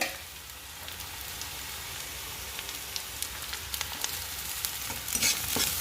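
Chopped garlic and ginger sizzle in oil with browned onions, a steady close frying hiss broken by scattered crackles and spatula scrapes that grow busier toward the end.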